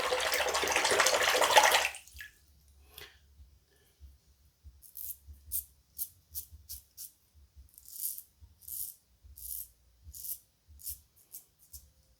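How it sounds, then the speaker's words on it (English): Running water rinses a Parker 94R safety razor fitted with a Feather blade, a loud steady gush for about two seconds, then quiet intermittent splashes and drips. "Let's rinse that off."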